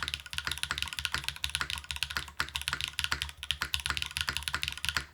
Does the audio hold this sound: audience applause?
no